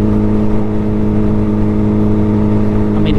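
Turbocharged Suzuki Hayabusa motorcycle under acceleration, a loud, close, steady engine drone with a strong low hum and layered harmonics, holding nearly level throughout with no voices.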